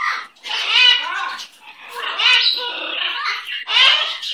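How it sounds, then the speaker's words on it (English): A pet parrot perched on a lap squawks and chatters in raspy bursts, close and fairly loud, three main calls separated by short gaps. "A happy bird."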